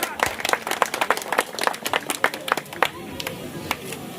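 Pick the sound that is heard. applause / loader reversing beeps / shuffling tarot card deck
applause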